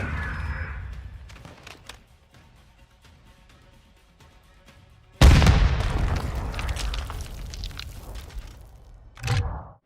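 A grenade launcher round fired and exploding in Modern Warfare II on the Valderas Museum map: quiet ambience, then one loud booming blast that rumbles and decays for several seconds, followed by a shorter thump near the end.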